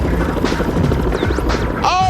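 Helicopter rotor beating loud and steady while hovering over an extreme skateboarding event, with crowd noise and a brief whistling tone near the end.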